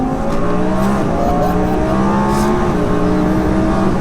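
A 1200bhp twin-turbo Audi R8 pulls hard in third gear, its engine roaring loud and close in a dense, steady drone that climbs slightly, with no talking.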